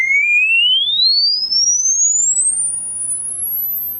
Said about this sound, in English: it goes up beyond what I can hear, so we're good.